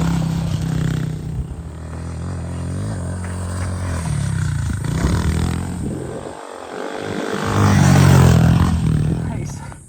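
A Honda CRF110 pit bike on fat tires rides over rocky ground. The small engine revs up and down, loud and close, over clattering and scraping from the terrain, and the sound swells near the end.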